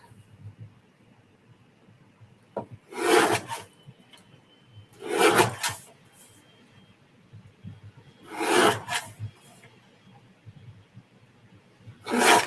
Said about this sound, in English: I'm going to go ahead and trim it and layer it on some blue cardstock